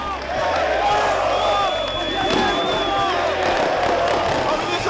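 A football crowd celebrates Brusque's promotion at Gigantinho stadium, a dense, continuous roar of cheering, whooping and chanting that stays loud throughout, with a commentator talking over it.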